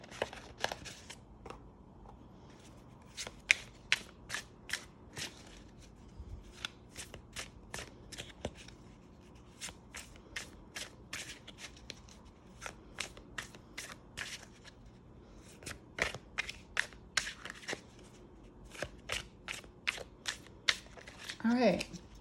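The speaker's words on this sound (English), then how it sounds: "let's go ahead and shuffle your cards" Tarot cards are shuffled in quick crisp riffles and flicks, repeated in bursts, close and fairly quiet.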